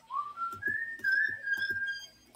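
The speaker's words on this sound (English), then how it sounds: "whoever is whistling, please stop." Someone whistles a short sliding tune that rises, then holds and wavers, during an online zombie game. Faint rhythmic game sounds tap underneath, and there is no talk.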